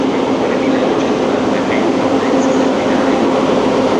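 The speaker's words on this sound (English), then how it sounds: "Let me film the train" A train pulling into a station platform in Bologna, a loud, steady rumble of wheels and carriages with faint background voices.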